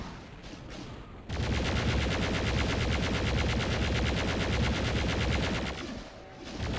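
Rocket launcher fire in DOOM, a dense, continuous roar of rapid blasts and explosions lasting several seconds, loud and unbroken before tapering off.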